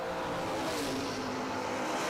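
A 1967 Camaro doorslammer drag car launches down the strip, a loud continuous engine roar with possible tire noise, heard at a moderate distance with no voices.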